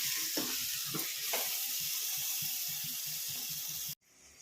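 Pre-fried chicken masala for hotel-style chicken sambar fries in a pan with a steady hiss of sizzling, broken by a few stirring scrapes, before the sound cuts off abruptly near the end.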